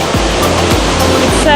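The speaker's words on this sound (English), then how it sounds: "we've now come to Pembok waterfall" Loud, constant rushing roar of Pembok waterfall in Pai, Thailand, at the end of the rainy season, filling the whole clip, with a few low thumps buried in the noise.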